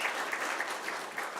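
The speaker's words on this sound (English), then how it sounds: "yes, claps for Renee too" A church congregation claps together during a Sunday service, a brief dense burst of applause filling the room.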